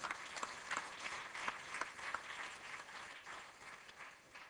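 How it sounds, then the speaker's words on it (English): Conference delegates at a renewable energy technology session give a round of applause, a soft, distant clatter of many hands that swells briefly and then fades. "So I must give a huge round of applause to the delegates who are still awake and listening."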